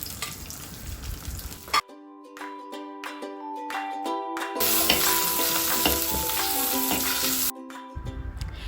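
Green chilli and curry leaves frying and being stirred in a pan for a Kerala-style fish curry, giving a steady close sizzle with scraping stir sounds that briefly drop out twice.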